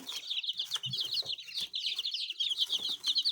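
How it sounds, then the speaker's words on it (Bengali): A dense, constant chorus of high, thin peeping from many newly hatched chicks and ducklings fresh from an incubator, close by and fairly loud, with a few soft clucks underneath. "এই হাঁসের বাচ্চা এবং মুরগির বাচ্চাগুলো সবগুলাই মেশিন থেকে উঠছে"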